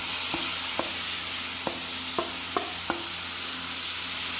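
Tamarind pickle mixture of salted bilimbi, asafoetida and ground fenugreek sizzles steadily in a pan, with half a dozen sharp spoon taps and scrapes against the pan at irregular intervals, close up and without speech.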